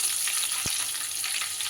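Potatoes and cauliflower fry under a lid over low flame in a pan, giving a steady, dense hiss that holds evenly throughout, with one brief low knock partway through and no voices.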